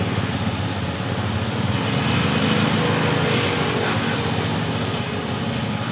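A small motorcycle engine runs steadily at close range with a buzzy, continuous drone, holding a constant level for the whole stretch with no voices.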